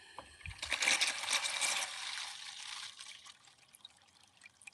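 Water gushing from a solar-heated garden hose, a sudden splashing burst that settles into a steady trickling flow and then tapers to a faint dribble.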